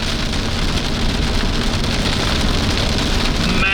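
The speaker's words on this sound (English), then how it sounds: "Wrapping in rain and hail." Heavy rain and hail pound steadily and loudly around a violent tornado near Whitman, Nebraska, a dense unbroken roar with no voices.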